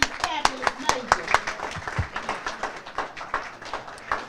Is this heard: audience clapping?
yes